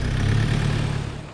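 A car engine revs hard while trying to pull a vehicle out on a sand dune while wild camping on the South African west coast, a loud low droning growl that eases off briefly near the end.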